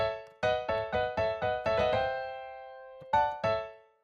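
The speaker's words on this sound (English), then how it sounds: "we're going to be using planing in the octatonic scale." Chord planing in the octatonic scale: a series of struck, harmonically rich chords moving in parallel, each with a sharp attack and decay, followed by a pause and two final chords ringing out.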